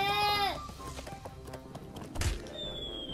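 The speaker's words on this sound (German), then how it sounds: "Das ist eine Ziege." A goat in the Crash Bandicoot N. Sane Trilogy video game gives a short, wavering bleat at the start, followed by clattering game sounds and a brief thump, with a high tone near the end.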